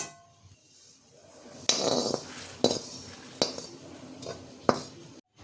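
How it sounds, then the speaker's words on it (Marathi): Roasted coconut being scooped out of a pan onto a plate, several distinct metallic clinks and scrapes spaced a second or so apart over a quiet background. "आता मी खोबरं काढून घेते प्लेटमध्येच"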